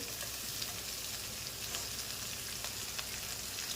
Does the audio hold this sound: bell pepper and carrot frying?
yes